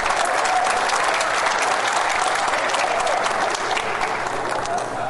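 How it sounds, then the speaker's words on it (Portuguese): An audience at a formal solemn session applauds in a steady, dense wash of clapping that carries on evenly for about five seconds, with some crowd murmur mixed in. "Uma salva de palmas novamente."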